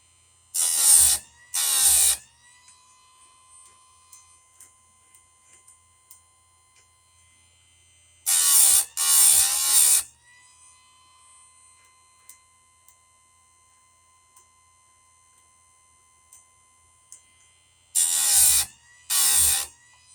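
An electric sharpener grinds chainsaw chain teeth in three separate pairs of short, loud buzzing bursts, with quiet gaps between them filled by faint clicks and handling sounds.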